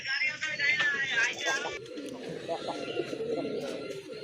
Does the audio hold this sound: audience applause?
no